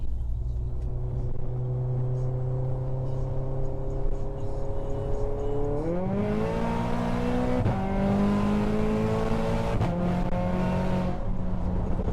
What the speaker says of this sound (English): Definitely that delay in the gear change there.